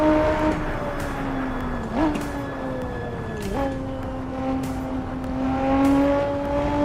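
Simulated car engine in a driving game accelerating hard along a fast stretch of road, a steady rising drone with two sharp pitch drops like gear shifts, loud and continuous with faint talk underneath.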